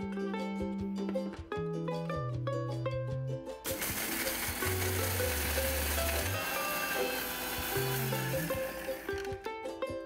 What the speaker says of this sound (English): The spices have cooled down. Let's grind them to a nice fine powder.